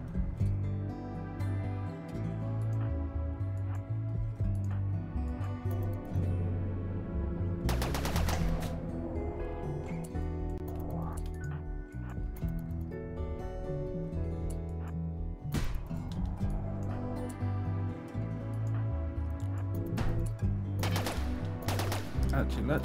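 An auto-charge turret fires in the RimWorld video game, sounding as bursts of rapid gunfire over game music and effects, with louder volleys recurring across the stretch.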